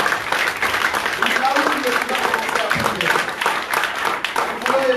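Congregation applauding during a French-language church sermon, steady clapping from a crowd throughout, with a preacher's voice and sung or spoken worship carrying over it.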